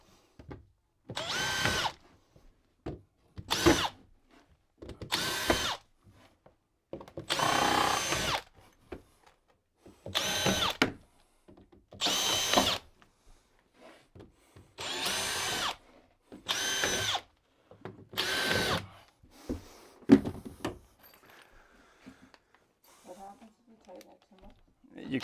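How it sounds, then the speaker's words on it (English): A power drill pre-drilling wooden wall studs during a bathroom tub install gives a series of short loud whirring bursts, about ten of them separated by pauses, with someone speaking in between. "So then I just pre-drill each stud."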